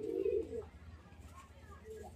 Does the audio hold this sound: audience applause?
no